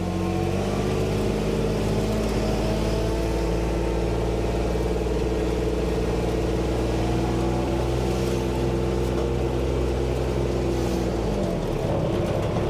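The Kubota RTV900 utility vehicle's D902 diesel engine hums loud and close as the machine coasts down an alley, a steady layered drone that drops in pitch near the end, with no voices.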